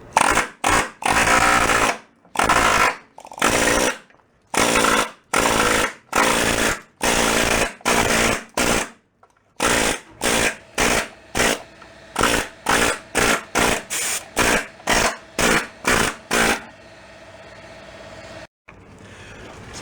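Power tool stripping undercoating from a rusty VW Bug frame rail, loud close bursts of harsh grinding in repeated on-off pulses of a second or so each, stopping toward the end and leaving quieter hiss.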